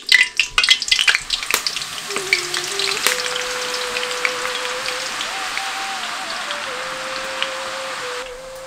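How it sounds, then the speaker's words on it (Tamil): Omapodi dough pressed into hot oil fries with a dense, steady sizzle, opening with a few sharp clicks and clatters before settling into continuous bubbling hiss. "எண்ணெய் சரியான பதத்துக்கு வந்ததும் மாவை இப்ப பிழிய ஆரம்பிச்சிருவோம்"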